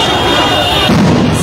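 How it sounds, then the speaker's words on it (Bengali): A sound grenade goes off during a street clash between Dhaka College and City College students in Dhaka. A single heavy boom bursts out amid steady crowd and street noise, with voices around it. "ঢাকা কলেজের দিকে একটি সাউন্ড গ্রেনেড ছুটছে"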